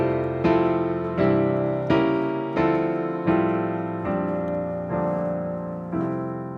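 Rich extended piano chords struck one after another, about seven sustained chords in a steady sequence, each ringing and fading before the next, played alone with no voices.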